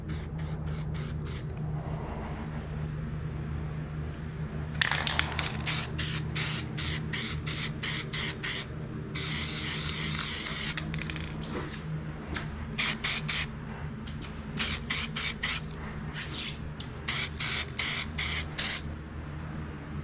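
A spray can sprays paint onto an old Ford Mustang in a garage, with repeated hissing bursts of varying length, one long continuous spray in the middle, over a steady low background hum.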